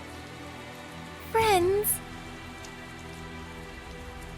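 Steady rain falls throughout a scene in the video game Tales of Zestiria, a constant wash of drops heard under a brief spoken line partway through.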